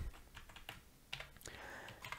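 Typing Java code on a computer keyboard, a short run of soft, irregular key clicks with a few sharper taps, close and fairly quiet with no talking.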